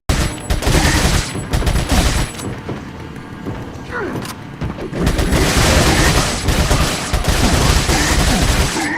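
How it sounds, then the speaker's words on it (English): Rapid TMP machine-pistol fire in Resident Evil 4 comes as loud, dense bursts with a quieter lull in the middle, and game sounds and possible voice sit underneath. "he was literally eating my TMP bullets for fucking breakfast"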